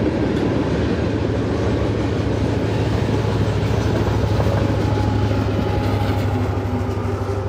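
Freight train rolling past with an SD70ACE locomotive as distributed power on the tail, a steady loud rumble of wagons and wheel noise continuing throughout without voices.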